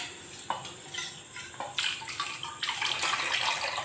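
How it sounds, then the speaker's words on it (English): Cornflour slurry poured into Bombay halwa in a cooking pan, a close wet splashing and sloshing with soft clinks of utensil against the pan, growing busier toward the end. "now let's add the cornflour slurry to this"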